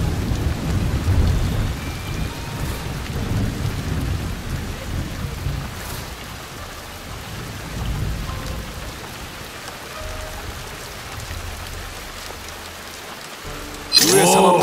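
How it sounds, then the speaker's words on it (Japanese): Heavy rain pours down in a rainy level of the stealth strategy game Shadow Tactics: Blades of the Shogun, a steady dense hiss with low rumbling swells, ending in a louder, sharper burst. "土砂降りだな。"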